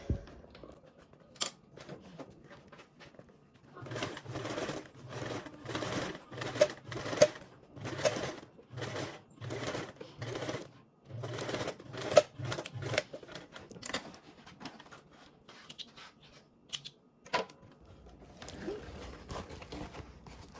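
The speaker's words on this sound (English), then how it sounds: "I'm going to go ahead and top stitch along this side" Sewing machine top stitching through lining and exterior fabric, several quick bursts of rapid rhythmic stitching separated by short pauses, close and fairly quiet.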